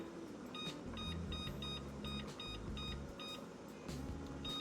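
Kitchen timer chirping in a quick series of short electronic beeps while being set, under low kitchen background noise.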